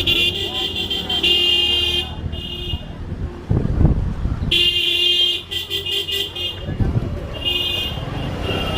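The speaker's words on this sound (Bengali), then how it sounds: "এই যে সবাই বাইক নিয়ে আসতেছে, দেখছেন?" Motorbikes climb a hill road in Sylhet, their engines droning steadily close by with a high-pitched horn honking in several bursts, wind buffeting the microphone, and a person talking over the noise.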